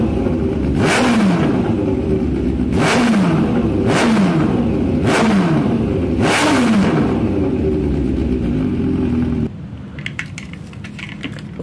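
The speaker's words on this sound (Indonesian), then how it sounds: "Kita dengarkan suara knalpotnya guys." A diecast Nissan GT-R R35 toy car plays an exhaust revving sound: four loud, evenly spaced rev bursts over a constant engine drone that cuts off abruptly near the end, leaving brief faint clicks.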